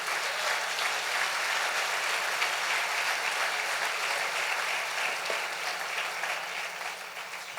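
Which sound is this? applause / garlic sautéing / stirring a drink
applause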